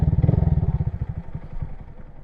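A 2022 Honda Grom motorcycle pulling away in first gear, its small single-cylinder engine thumping loudly up close in rapid even pulses, then easing and fading as it rides off.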